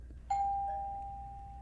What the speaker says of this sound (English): he stepped back, raised up his leg, and pressed the doorbell with his shoe